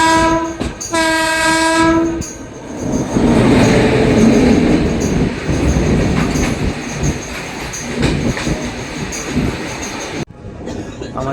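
The 13010 Doon Express pulls out of Hazaribagh railway station: a loud, close horn blast sounds for about two seconds, followed by a continuous rolling rumble and clatter of carriages.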